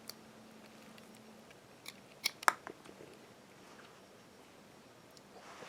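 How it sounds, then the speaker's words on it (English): Scissors snip through the end of a waterproofed LED strip circuit board for a DIY grow light, giving a few faint close clicks and one sharper cut against quiet background noise. "So I just take my scissors and snip it off."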